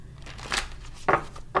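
Tarot cards get a quick shuffle, heard as two or three short papery riffles close by against a quiet background.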